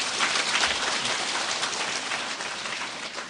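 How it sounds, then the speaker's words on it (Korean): Lecture-hall audience applauding a neurology professor before a talk on chronic headache; a steady, dense wash of clapping with no talking. "큰 박수 부탁드립니다."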